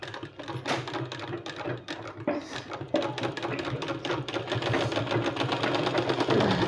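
A sewing machine stitches a folded sleeve with a quick, steady mechanical patter, starting in short bursts and then running continuously at moderate volume.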